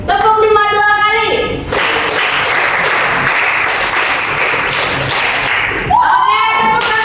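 A classroom of students in a Hindu religious education lesson claps together in a counted pattern, with a dense burst of many hands lasting about four seconds. A teacher's voice is heard just before and after it.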